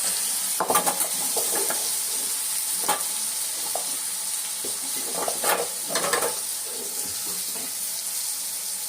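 Hot oil sizzling and crackling in a pan while tempering chutney, steady throughout, with sharper spattering pops and a few stirring clinks scattered across.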